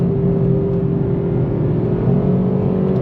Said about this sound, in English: You can hear me holding the throttle steady.